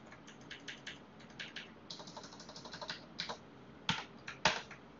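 Typing on a computer keyboard while writing R code, close and quiet irregular bursts of key clicks with short pauses and a few sharper, louder strikes near the end, no talking.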